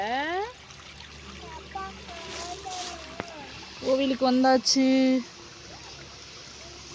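Water flows and trickles along an irrigation canal feeding fields in the background while people talk nearby, with a few brief louder tonal sounds partway through.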